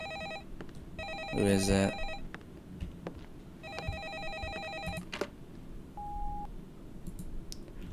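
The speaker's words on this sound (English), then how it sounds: "And we're getting a phone call." A telephone rings with an incoming call, sounding as repeated electronic ring bursts alongside clicks and a short beep, heard indoors at moderate level, with a voice briefly speaking.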